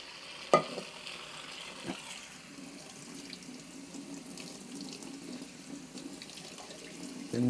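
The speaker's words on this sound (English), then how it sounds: "wash it with the cold water to get rid of all the salt and" Cold water runs from a kitchen tap as rice is rinsed to wash off salt and starch, a steady, soft splashing stream with a couple of clinks near the start.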